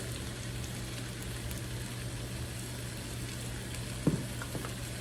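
Spinach sautés in a hot pan with a steady, even sizzle throughout, punctuated near the end by a couple of brief utensil clinks or stirs.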